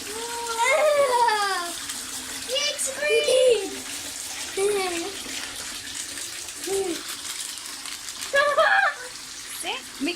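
Water runs steadily into a bathtub while young children chatter and squeal excitedly close by, their voices rising over the constant splashing flow.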